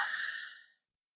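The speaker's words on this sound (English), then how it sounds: "Am I breathing in my mic again?" A single breath rushes close into a microphone, fading out within a second, alone with no talk.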